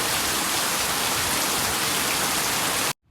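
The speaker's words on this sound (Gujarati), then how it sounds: "આ તો વેલા જાગીને જોયું તો વરસાદ ફૂલ બાકાજી કી બોલાવે." Heavy early-morning rain pours down outdoors as a dense, loud, continuous hiss of drops striking surfaces, cutting off abruptly just before the end.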